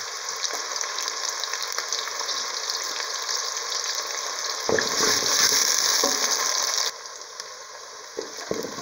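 Steady sizzling of broccoli frying in a pan, close and continuous, swelling briefly louder before easing back to a softer crackle.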